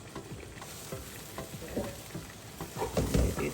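Onion puree and ginger frying in a pan for Ghanaian waakye, with a steady low sizzle broken by irregular scraping stirs that grow louder and busier toward the end.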